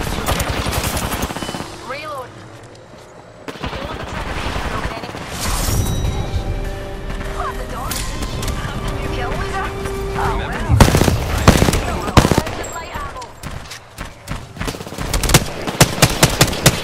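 Bursts of rapid automatic gunfire from an Apex Legends battle royale match, loud and repeated in clusters, mixed with game music and effects, with the heaviest volleys near the end.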